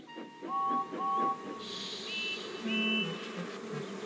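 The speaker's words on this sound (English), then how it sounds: "James's reply was drowned by the sound of buzzing" Soft buzzing of bees with thin whistling tones drifting over a quiet background, steady and fairly faint.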